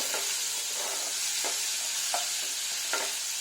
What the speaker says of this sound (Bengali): মেথি খুব বেশিক্ষণ ভাজতে নেই